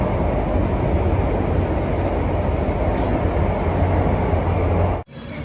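Steady loud rumble of a Singapore MRT train in motion, continuous low-frequency roar with rail noise throughout, dropping abruptly near the end, no talk.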